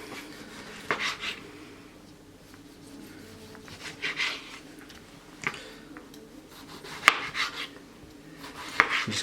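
A knife cuts a large garden-grown beef tomato into thick slices on a board, giving several separate crisp chopping knocks spaced a few seconds apart, close and clear over a quiet room.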